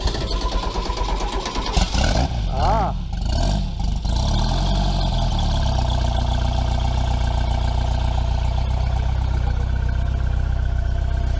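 Vintage car engines crank and catch with loud sputtering, then settle into a steady, rumbling idle that continues for several seconds, with a brief exclamation near the start.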